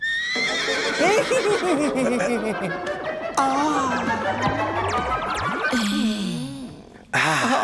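A person imitates a horse's whinny with long wavering vocal neighs, loud and close, followed by a short burst of chatter.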